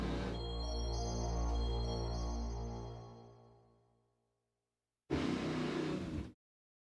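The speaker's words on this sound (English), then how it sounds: "Someone revving their motor very loudly." A motor vehicle engine revs loudly in a long sustained roar that fades away. After a moment of silence, a short, harsh burst of noise cuts in and stops abruptly.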